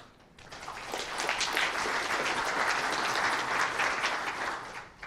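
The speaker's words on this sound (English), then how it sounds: "I don't think anyone's ever clapped for me before." Audience applause at a talk on network security, a dense, steady wash of clapping from a room full of people that swells quickly and holds for several seconds.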